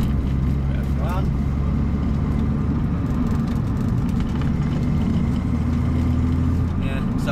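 A car drives steadily with a loud low engine drone and road rumble filling the whole stretch, with an occasional faint voice beneath it.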